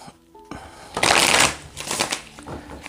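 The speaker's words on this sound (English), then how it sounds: "I'm just going to cut and shuffle" Cards riffled and shuffled close up, a quick ruffling burst followed by softer shuffling and tapping of the deck.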